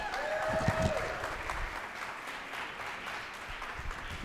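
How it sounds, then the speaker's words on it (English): Audience applause for Dr. Robert Bullard at an evening museum event honoring him, a steady wash of clapping throughout with a brief tonal sound near the start. "Can we give a round of applause again to Dr."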